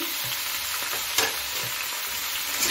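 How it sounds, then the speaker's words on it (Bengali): Vegetables and ground spices for chechki, with salt, turmeric, cumin powder, red chilli and Kashmiri chilli, sizzle steadily in a hot pan while being stir-fried, with an occasional louder scrape of the spatula and no voices. "এখন ভালো করে কষিয়ে নিচ্ছি।"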